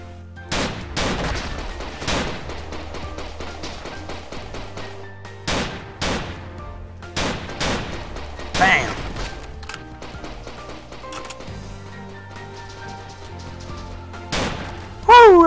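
Sharp, spaced gunshots in the indie Japanese first-person shooter The Legend of Alfur, loud separate cracks at an irregular rhythm with echoing tails and occasional electronic tones between them.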